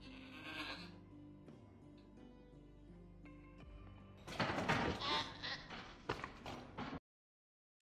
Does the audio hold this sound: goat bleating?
yes